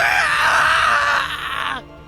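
A man screams in the Hakuoki Kyoto Winds game, a loud, strained, wavering cry held for nearly two seconds before it cuts off abruptly, leaving a faint background hum.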